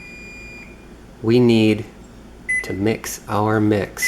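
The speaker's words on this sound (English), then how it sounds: "That other beeping sound you heard means that the temperature in the oven has reached 325." An oven that has finished preheating to 325 degrees sounds a steady electronic tone, then a few short beeps follow amid a person talking in a kitchen.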